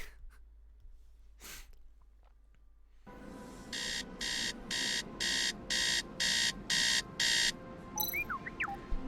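Alarm clock beeping during a game stream: eight evenly spaced loud electronic beeps in a steady rhythm, rising suddenly over a busy background hum.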